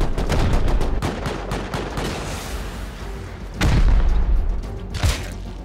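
Rust video game gunfire: rapid bursts of automatic shots crackle in dense volleys, broken by a couple of heavier booming blasts, loud and close throughout.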